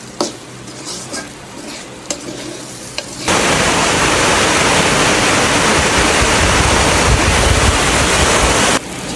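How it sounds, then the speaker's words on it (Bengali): Pulao rice lightly salted is fried in a pan, a loud steady sizzle and stirring hiss that starts abruptly after a few quiet clinks and runs continuously close to the microphone. "এখন সুন্দর করে চাউলটা ভেজে নিচ্ছি।"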